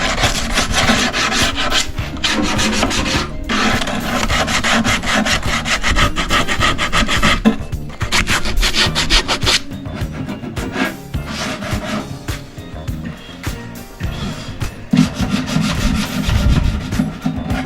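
Continuous abrasive rubbing and scraping on wood, steady and fairly loud, with short pauses between strokes and no talking.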